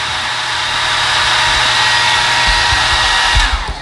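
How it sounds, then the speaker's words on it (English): A handheld hair dryer runs steadily at close range, a loud continuous broadband whoosh with a low motor hum that holds even throughout, with no talking over it. "Maybe I'll dry my hair at the same time."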